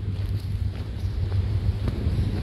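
Low, blustery wind rumbles across the microphone in uneven gusts at Tai Tam Reservoir, with faint background noise and no speech.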